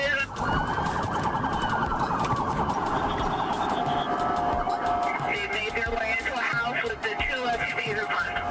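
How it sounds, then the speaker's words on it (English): Police sirens wail and yelp continuously during a Florida pursuit, loud and overlapping, with traffic noise underneath and speech running over the top. "leaving behind sirens howling in frustration"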